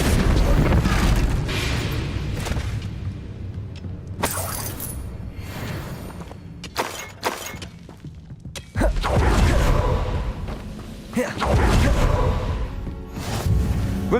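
A loud, chaotic burst of fiery spell combat in Hogwarts Legacy, the Incendio fire spell flaring amid repeated booms, crackling blasts and thuds that rise and fall, with sharp impacts near the middle and a sustained roaring surge toward the end.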